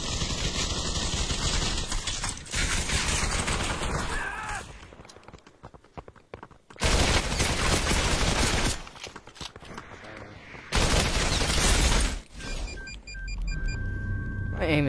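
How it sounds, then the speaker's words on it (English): A gold machine gun fires in the VR shooter Population: One, loud sustained bursts of automatic gunfire with gaps between them and game effects and beeps in the background. "Gold machine gun."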